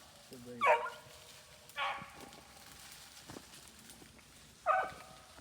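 Beagle hounds trailing a rabbit outdoors give three separate baying calls, sounding distant and faint against a quiet background.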